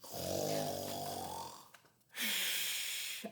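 A storybook reader imitates a giant snore with a voice, two long rasping, rumbling breaths separated by a short pause, loud and close.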